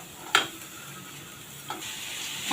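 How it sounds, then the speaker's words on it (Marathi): A spoon stirs jaggery and grated coconut filling for mango modak in a pan, faint scraping with a soft background sizzle and two light knocks against the pan. "आता इथे सारण आपल्याला चांगलं परतून घ्यायचं आहे"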